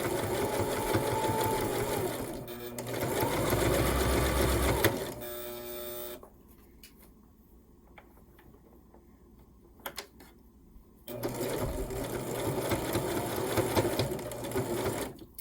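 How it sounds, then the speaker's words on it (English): A sewing machine stitches lace onto a fabric heart with a fast, loud mechanical whir in long runs, pausing for quiet clicks and handling noises midway before sewing resumes. "just line it up right on that same stitch line and just sew around again"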